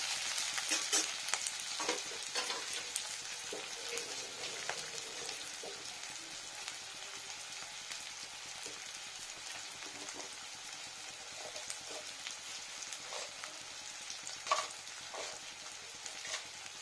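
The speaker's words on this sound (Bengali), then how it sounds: "পেঁয়াজটা ব্রাউন হোক।" Onions fry and brown in a hot pan with a continuous soft sizzle, broken by occasional stirring scrapes and clicks, fairly faint and close with no talking.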